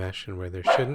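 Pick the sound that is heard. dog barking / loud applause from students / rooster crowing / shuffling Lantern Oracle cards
dog barking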